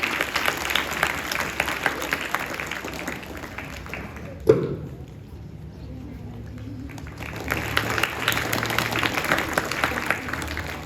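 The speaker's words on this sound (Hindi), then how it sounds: "तालियों से कीजिए" Applause from an audience at a school bag distribution event, a dense, moderately loud wash of clapping that fades into a quiet gap, then returns at a lower level.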